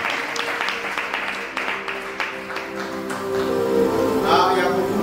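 Church congregation applauding during a sermon on the first Passover: dense, sustained clapping with individual claps standing out, swelling louder near the end, with voices mixed in.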